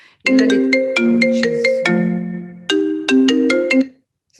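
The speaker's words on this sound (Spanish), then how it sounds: "Disculpe, no sé cómo es posible y voy a cerrar el teléfono." A mobile phone ringtone goes off during a Spanish-language talk about installation art, playing a loud, clear melodic tune of repeated tonal phrases with a brief pause before it resumes.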